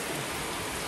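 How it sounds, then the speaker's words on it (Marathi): Heavy rain pours down in a loud, dense, unbroken wash of drops hitting surfaces close by, with no speech. "पुढे फुल जोरात पाऊस आहे."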